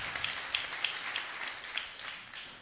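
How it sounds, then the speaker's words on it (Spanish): A church congregation gives a quiet round of applause during a sermon, with scattered soft claps in an irregular patter, faint and somewhat distant. "Let's give a strong applause."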